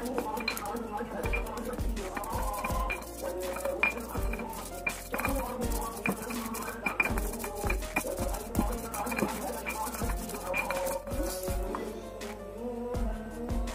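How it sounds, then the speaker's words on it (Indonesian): Kencur, turmeric, ginger, galangal and candlenuts being ground by hand for a spice paste, with steady repeated knocks and scraping grinds plus light clinks, close and moderately loud throughout. "Kita giling dulu kencur, kunyit, jahe,"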